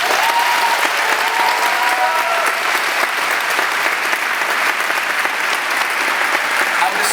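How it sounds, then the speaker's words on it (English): Audience of friends and family applauding at a graduation speech, a dense, steady wash of clapping from many hands that stays loud and even throughout. "I think all of our friends and family here deserve a round of applause."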